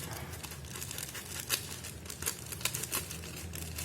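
Shampoo refill packaging being cut open, with crinkly plastic rustling and short scissor snips, close and fairly quiet, without speech.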